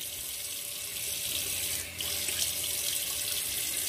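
A bathroom faucet pours cold water into a sink during a face rinse after shaving, a steady close hiss and splash with a brief dip midway, no voices.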